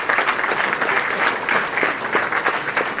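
Steady applause from a gathered audience for the buffet catering staff at a hall of fame induction ceremony, dense clapping sustained evenly for the full three seconds with no voices over it.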